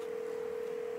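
A steady telephone dial tone, one unbroken pitch held for the whole second at a fairly quiet level, with no voices and no button presses.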